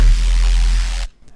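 A heavy Phase Plant bass synth tone pushed through a hard clipper, loud, dense and distorted with a thick low end, holding for about a second before cutting off abruptly into near silence.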